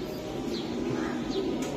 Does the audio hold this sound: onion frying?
no